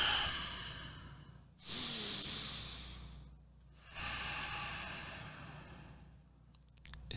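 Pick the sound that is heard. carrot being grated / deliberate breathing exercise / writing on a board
deliberate breathing exercise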